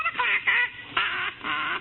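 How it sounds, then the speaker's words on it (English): A parrot squawks in a vintage radio comedy recording, four harsh, honking bursts in quick succession, moderately loud and alone against a thin, band-limited background. "There's a parrot over there."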